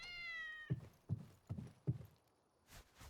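A cat meows once in the Dad's Monster House video game, a drawn-out tonal cry, followed by four evenly spaced heavy thuds like footsteps and a faint soft noise at the end.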